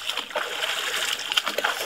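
Cold water from Bear Canyon Lake in an Arizona forest splashes and splatters irregularly onto a person nearby, with soft sloshing bursts and drips close to the listener.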